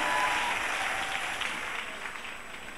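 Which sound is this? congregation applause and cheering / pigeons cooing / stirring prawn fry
congregation applause and cheering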